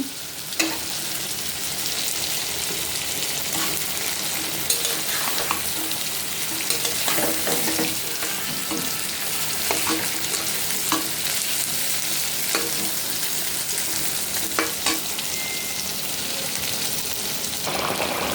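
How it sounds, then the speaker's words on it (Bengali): Fried fish pieces being stirred into a bhuna in a pan, a steady close sizzle broken by repeated scraping strokes of a spoon against the pan, with no talking. "সেই মাছটাই আজকে আমি ভুনা করব"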